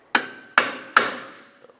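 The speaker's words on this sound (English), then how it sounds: "take your hammer on each side of the bearing, top, bottom. Basically just wiggle it out of place with your hammer." Three sharp, loud metallic hammer strikes, evenly spaced about half a second apart, knocking on the rear wheel bearing of a 2007-2010 Chrysler Sebring, each ringing briefly before fading, followed by a couple of faint taps.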